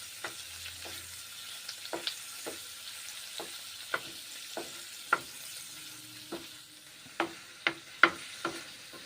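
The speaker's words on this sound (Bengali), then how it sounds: "এক পিঠ ভেজে নিয়েছি, উল্টে দিয়েছি, আবার তারপর দু পিঠ এখন আমি ভেজে নিচ্ছি।" Cubes of chhana (cottage cheese) frying in butter in a pan give a quiet background sizzle, broken by sharp scraping clicks from stirring and turning that come at irregular intervals throughout.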